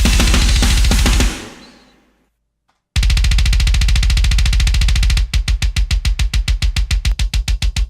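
Zebrano kick drum layered with a Slate bundle kick sample plays within a full drum mix, then the mix drops out and the kicks repeat as a fast, punchy, evenly spaced pattern standing alone near the end.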